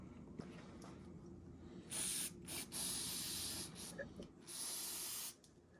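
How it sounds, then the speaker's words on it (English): Brake cleaner spraying onto a dirty spark plug from a hard-starting Honda generator, heard as several sharp, close hissing bursts of a few seconds each, separated by short pauses over a quiet background. "Let's blast that with some brake clean."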